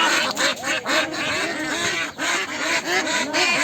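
A flock of ducks being sold from a vehicle in a Bangladeshi village quacks loudly and continuously up close, the harsh overlapping calls coming in dense rhythmic bursts.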